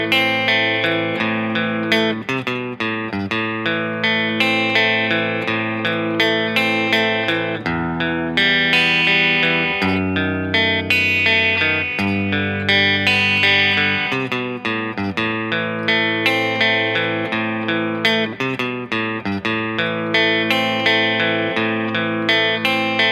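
Guitar plays Joji's song Run as a full run-through of intro and repeating parts: steady strummed chords and melodic picking, close and clear, continuous for over twenty seconds with no talking.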